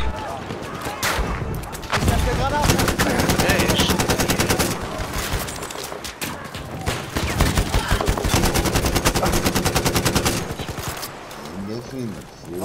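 Rapid bursts of video-game gunfire crackle almost nonstop during a live gaming session, dense and loud with brief lulls, while players talk over the shooting.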